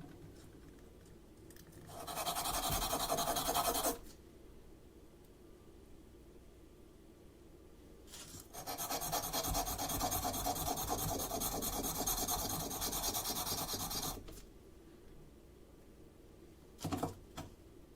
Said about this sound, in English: Grab some sandpaper.